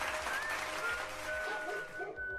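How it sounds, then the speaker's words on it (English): Crowd applause from the video game The Sims Bustin' Out, a steady clapping wash lasting the whole moment with game music tones running underneath. "Can we get like a round of applause for the paper girl"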